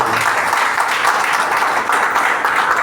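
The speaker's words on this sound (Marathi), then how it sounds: "सत्कार होत असताना सर्वांनी टाळ्या वाजवायच्या आहेत." Audience applause at a retirement felicitation ceremony, steady dense clapping that runs loud and unbroken from start to finish, with no voice above it.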